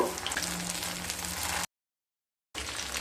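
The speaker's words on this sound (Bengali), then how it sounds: "তেলটা গরম হয়ে গেলে মিডিয়াম স্টিমে কোপ্তাগুলোকে ভেজে নেব" Chhana (cottage cheese) koftas frying in hot oil over medium heat, a soft, steady crackle that drops to total silence for about a second before resuming.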